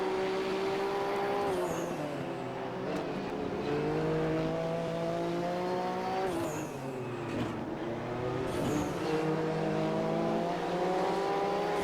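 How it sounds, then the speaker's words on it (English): Race car engines in the Raceroom racing video game, several cars revving loud and steady, with pitch rising through the gears and dropping at shifts around six and eight seconds. "sit back and just listen to the sounds of them engines"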